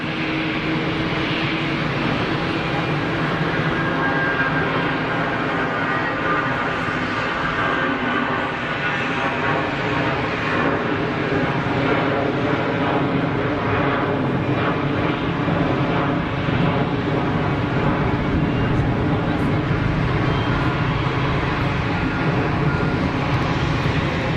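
An EasyJet airliner takes off at Geneva Airport, a steady, loud engine roar that holds throughout at a moderate distance.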